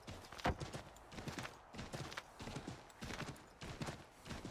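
Rhythmic hoofbeats of a horse in Assassin's Creed III clip-clop steadily at a trotting pace, fairly close, with a few brief louder thuds among the beats.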